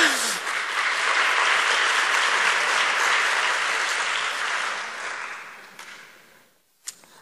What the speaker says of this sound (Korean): 이런 얘기하고 박수 받는 건 또 처음이네.